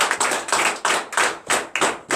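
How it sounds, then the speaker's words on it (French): Rhythmic clapping at a church prayer service, about eight evenly spaced bursts, close and fairly loud, like a small group clapping in time. "Donnez des vives acclamations"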